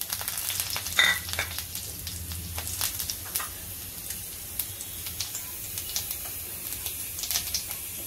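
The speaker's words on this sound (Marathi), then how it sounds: "फोडणी आपली तडतडलेली आहे" Mustard seeds and asafoetida crackle and sizzle in hot oil during a tempering for okra with green chili thecha, a steady frying hiss dotted with sharp pops throughout, close and moderately loud with no talk.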